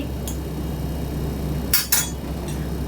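A metal spoon clinks twice against a container while a spoonful of raw olive oil is taken, two short bright close taps over a steady low hum.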